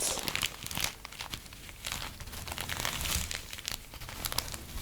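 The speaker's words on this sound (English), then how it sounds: "The nice crinkling sounds and the rice tracing and poking" A plastic bag filled with rice crinkles and rustles as it is poked and traced, close and crisp, in irregular bursts with no talking.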